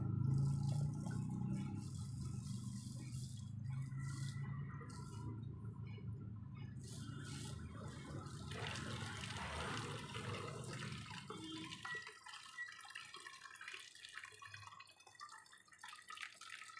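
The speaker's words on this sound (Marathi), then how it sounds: "याच्यामध्ये मी पाणी ओततोय." Water is poured steadily into a bottle at home for lemon sharbat, a continuous splashing, gurgling flow that tapers off near the end, close to the microphone with no talk.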